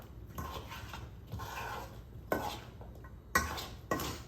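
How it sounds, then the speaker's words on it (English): Okra being stirred with cornmeal in a bowl for fried okra, giving scraping, rustling bursts at close range, several separate strokes with pauses between them and no voices. "Just stir it up."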